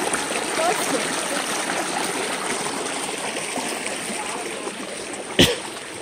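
A river in Peru rushes and splashes in a loud, unbroken stream close by, with a brief knock near the end.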